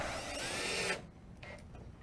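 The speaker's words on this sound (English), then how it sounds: "drilled it in using a screwdriver" A power screwdriver drives a screw during a street wrap installation, a steady whirring buzz lasting about a second before cutting off, followed by faint handling noise.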